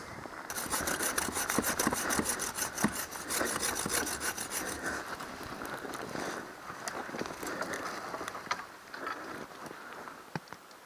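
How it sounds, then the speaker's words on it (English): A handsaw cuts through dry, standing vertical deadwood for firewood in a rapid, rhythmic back-and-forth rasp, loud and close at first, then slower, lighter strokes with scattered knocks toward the end. "gonna try to find some nice vertical deadwood that's nice and dry, and start processing some firewood."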